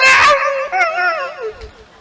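A voice imitates a puppy, letting out a sharp yelp followed by a long, wavering whimpering howl, loud and close, with faint crowd noise at the end.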